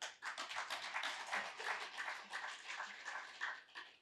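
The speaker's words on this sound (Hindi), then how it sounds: "जैसे आप तालियां बजा रहे हैं" An audience at a spiritual talk claps in a steady patter of many hands, fairly close, with no one speaking over it.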